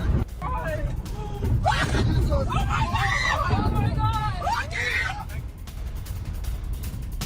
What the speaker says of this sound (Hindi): बहरीन के अमेरिकी बेस पर हुए अटैक के बाद चीख पुकार,